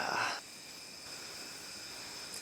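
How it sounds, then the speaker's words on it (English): Crickets chirp before dawn in a steady, faint high-pitched trill that continues throughout, with a short louder burst of noise at the start. "Can y'all hear the crickets? Loud today."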